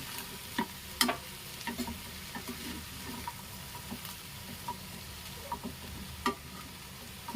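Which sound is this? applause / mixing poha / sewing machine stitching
mixing poha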